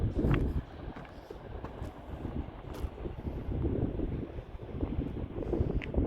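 Steady wind buffeting a microphone, a constant low roar and rumble with gusty swells throughout and no talking.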